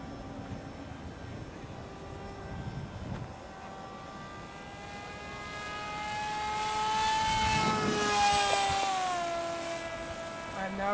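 A homemade trash-built model airplane flies overhead, its small engine a steady whining buzz that rises in pitch and grows louder as it passes closer, then fades slightly, with faint background noise and no talking.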